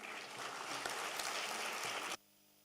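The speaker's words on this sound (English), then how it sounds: "A round of applause, please." Audience applause at a design conclave during a flag-hoisting ceremony: dense, continuous clapping from a crowd, fairly faint and distant, cutting off abruptly near the end into near silence.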